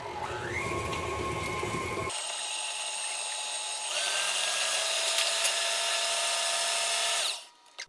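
An electric mixer beats butter for buttercream with a close, steady motor whine. It starts at low speed, then steps up twice to higher, louder speeds before cutting off.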